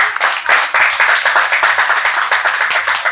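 A church congregation in Cameroon applauds loudly and steadily, dense continuous clapping from a crowd filling the whole stretch without pause.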